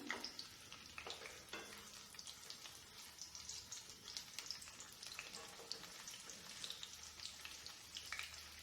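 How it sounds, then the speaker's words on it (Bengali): Boiled potatoes frying in three tablespoons of oil in a pan, with a steady crackling sizzle and scattered pops that run on throughout, fairly quiet and close, with no talking. "এবার আলুটা ভেজে নেব প্রথমে একটু লাল করে"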